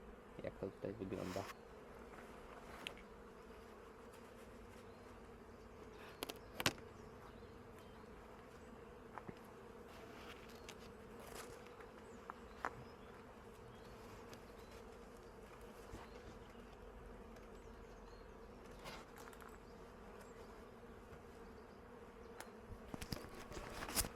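Honey bees hum in a constant, low buzz from an opened hive with its roof removed, with a few louder passing drones now and then.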